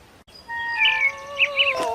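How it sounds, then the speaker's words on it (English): Redbirds singing, a few bright whistled phrases and trills rising and falling over a soft sustained musical backdrop, clear and close with no talk. "He heard redbirds sing."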